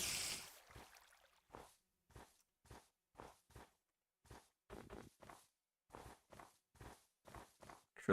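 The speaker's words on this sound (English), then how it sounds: "Heard some footsteps making me paranoid." Footsteps in the Minecraft video game, a series of about fifteen short, crisp steps falling in irregular pairs and bursts, clear against near silence after a brief opening noise.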